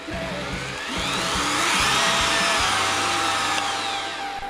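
A power drill with an adjustable speed dial spins its bit against a clamped piece of wood, a loud close continuous whine with a steady drone that swells slightly and holds, no talking over it.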